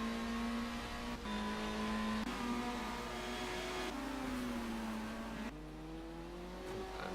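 A Citroen touring car in a sim racing game on a virtual London street circuit, its engine droning and rising through repeated gear shifts, a steady mid-level whine with brief dips between gears and no talk.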